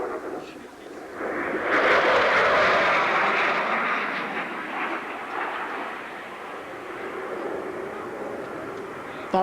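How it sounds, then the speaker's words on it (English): F-16 Fighting Falcon jet making a low, fast airshow pass at over 500 mph, a loud rising and sweeping jet roar that peaks and then fades, with faint voices underneath. "demonstrate the low altitude, high airspeed capability of the Fighting Falcon"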